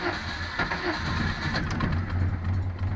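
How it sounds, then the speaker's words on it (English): A stone-cold car engine, out of gear with no choke, starts and settles into a steady low idling rumble with a faint mechanical rattle, close by and alone. "I suspect with a little bit more gas it would have started quicker."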